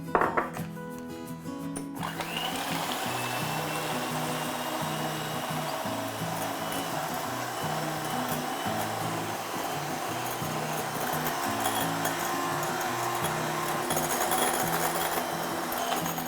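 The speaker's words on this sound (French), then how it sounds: "Maintenant, montez les blancs en neige." Electric mixer whipping egg whites to stiff peaks for a tiramisu, a steady continuous motor whir held close and loud from start to finish, with no talking.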